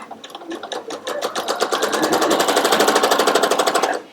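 A sewing machine chain-pieces quilt half-square triangles made from scraps, running as a fast, steady rapid stitching clatter that builds and holds loud and close, with no talking.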